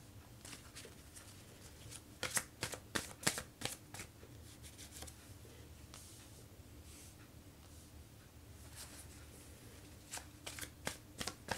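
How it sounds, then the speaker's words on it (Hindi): Tarot cards riffled and shuffled by hand in repeated quick bursts of crisp flutters, close and fairly quiet, with soft rustling between the shuffles. "अब मैं आपके लिए टैरो कार्ड्स शफल करूँगी लाइव"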